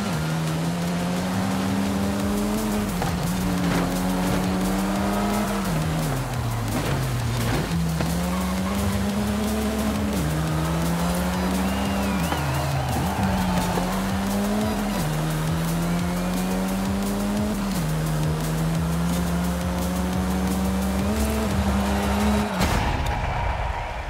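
Car engine revving and shifting through gears in Forza Horizon 5, a loud sustained drone rising and dipping with each change, with brief tire squeals mixed in and a sudden drop at the end.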